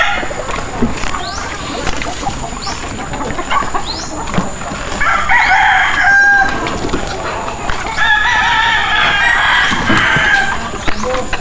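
In a farmyard, hens cluck and a rooster crows loudly nearby in two long, strained calls, while other birds chatter and a person speaks in the background.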